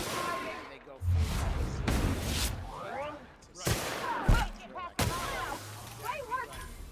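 Pistol shots in The Outer Worlds: several sharp, separate cracks spread through the scene, mixed with explosive impacts and game effects, while people talk.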